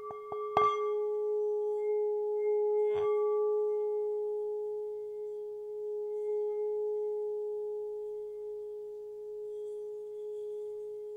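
A singing bowl is struck a few times with a mallet, then rubbed around its rim, leaving a pure, steady ringing tone that sustains quietly and alone.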